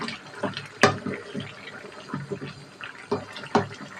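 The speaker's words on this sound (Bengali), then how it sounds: "হালকা করে একটু নেড়ে ছেড়ে দিই।" Food is stirred in an opened cooking pot on the stove, producing wet squelching, sloshing and soft scrapes with a sharp clink of the utensil, close and moderately loud in irregular bursts.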